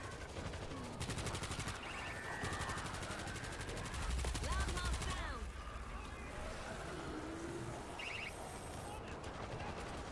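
Dense gunfire from the World War Z video game during a zombie horde mode, with rapid automatic bursts and continuous loud shooting layered over constant game noise and chaotic background effects.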